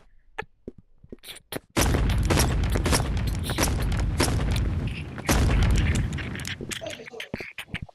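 Rapid gunfire in the VR game Animal Company, a few separate shots followed by a long dense barrage of booming rounds, loud and close, with voices talking over it.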